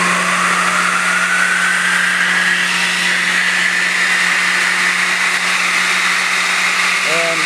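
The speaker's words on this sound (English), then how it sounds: "I'll turn the blower on" A blower in a Deltrol life cycle test set-up runs steadily and loudly, a continuous motor whir with a fixed low hum and a slowly rising whine.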